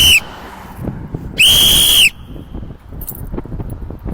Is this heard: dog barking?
no